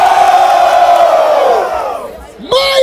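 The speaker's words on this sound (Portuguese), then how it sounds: "Barulho para as rimas do Lauro!" Crowd roaring and cheering at a Brazilian freestyle rap battle, the Batalha da Aldeia in Barueri: a loud sustained collective shout that fades, then a sharp burst of whoops and yells near the end.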